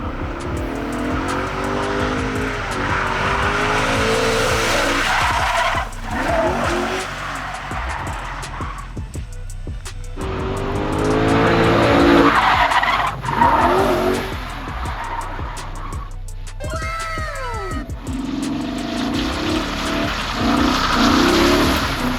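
An LS-swapped Mustang drifts on its first outing, the engine roaring loudly as the tires skid and squeal in long sustained bursts, with the revs rising and falling between slides.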